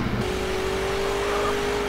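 A car engine in GTA San Andreas holds a steady, loud drone for about two seconds, a sustained revving tone with no speech over it.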